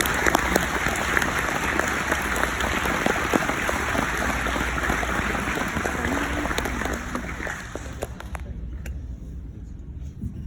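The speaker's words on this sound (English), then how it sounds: "Let's give him another round of applause." Loud, dense applause from a crowd after a speech by football player Roman Harper, steady clapping that fades somewhat toward the end.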